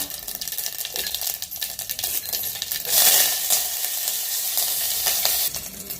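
Mustard seeds, cumin and curry leaves sizzle and crackle in a little hot oil, a loud dense spatter that swells sharply partway through, close and continuous.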